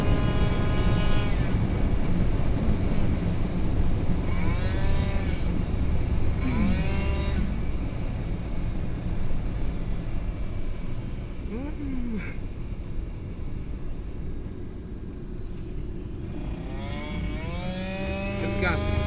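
Yamaha Aerox scooter engine running rich, revved under throttle: a loud continuous buzzing drone with rising and falling pitch sweeps as the throttle opens, mixed with wind rush, with people talking over it.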